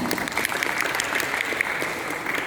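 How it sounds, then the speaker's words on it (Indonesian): Applause from an audience at a school quiz competition, a steady dense patter of many hands clapping for a few seconds, fairly close and continuous with no talk over it. "Tepuk tangan dulu untuk kita semua"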